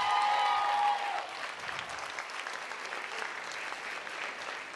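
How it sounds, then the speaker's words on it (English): A comedy show audience applauds the comedians: dense, even clapping from a crowd, loud at first with a sustained tone over it briefly, then settling into a steady, slightly softer wash. "we're gonna give this one more round of applause for them"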